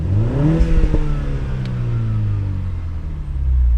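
A Mini John Cooper Works engine revs up toward redline, its pitch climbing quickly before holding a strained, loud whir and then dropping back, heard close with no talk.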